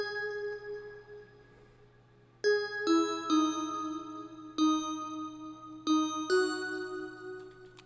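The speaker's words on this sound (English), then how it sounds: "I added some VZ bells inside of Plugged in Nexus." A VZ bells patch from the Nexus plugin plays a bell melody in a plugg beat, soft tones then a string of bright struck notes with ringing decay, each attack sharp over a low sustained bed.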